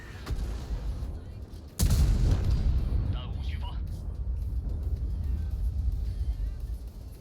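A sharp, loud cannon blast from a WZ-111G FT tank destroyer in World of Tanks, a single shot followed by a deep rumbling engine and battlefield din, with players chatting underneath.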